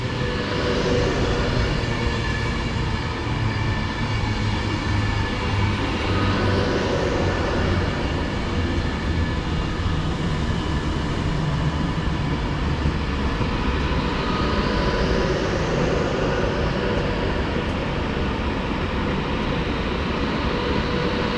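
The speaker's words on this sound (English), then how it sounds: "Right upon it now is the 1040 Avanti West Coast service from Wolverhampton to London Euston." An Avanti West Coast passenger service from Wolverhampton to London Euston rolls into Birmingham International on the West Coast Main Line, a loud, continuous rumble and hum close by, with rising whine passes as carriages run past.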